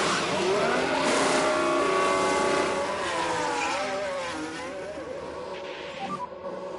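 Race cars speed past on a circuit in the F1 Manager 24 racing game, engines whining loudly and shifting pitch as they accelerate and pass, the roar fading slightly toward the end.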